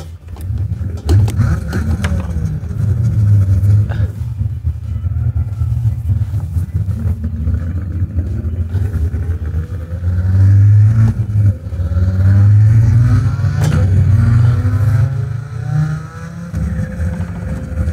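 Car engine revving and accelerating in a driving video game, a loud steady drone with rising and falling pitch as the throttle changes, continuous for the whole stretch with no talk.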